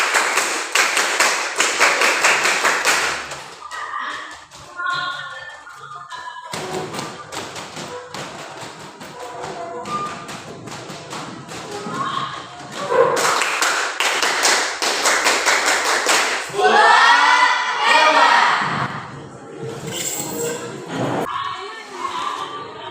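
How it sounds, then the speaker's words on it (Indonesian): A classroom group claps a five-beat pattern on cue, sharp clustered claps repeating in bursts across the room, mixed with voices and shuffling. "Tepuk lima."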